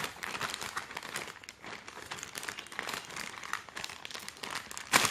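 A knife slicing open the plastic packaging of a copper fidget spinner: close, quiet crinkling and crackling of wrap goes on throughout in uneven rustles, with a sharper crackle at the end.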